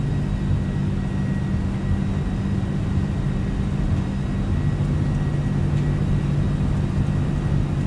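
Steady, loud jet engine roar from an MD-11 airliner on its takeoff roll in Microsoft Flight Simulator 2020, a continuous low rumble with a whine above it, holding evenly throughout with no talk.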